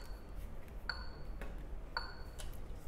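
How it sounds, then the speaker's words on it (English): A metronome ticks at 56 beats per minute, sharp bright clicks about a second apart, fairly faint over a low background hiss. "I am going to turn on a metronome"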